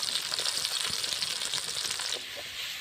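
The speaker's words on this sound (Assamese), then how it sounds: "আৰু ইয়াত তেল পকাত মই পিঁয়াজ দি দিলোঁ। আৰু লগতে মই আদা নহৰু দি দিলোঁ অলপ তেলতে।" Onions, ginger and garlic frying in hot oil give a steady, close sizzling hiss that continues without pause, easing slightly toward the end, with no talking.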